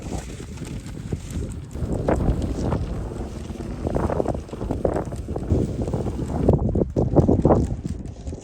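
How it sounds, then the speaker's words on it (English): Strong wind gusting in open desert country at Gold Basin, Arizona, buffeting the microphone with loud, uneven roaring bursts throughout, easing briefly near the end before surging again. "Cannot believe how windy it is around here."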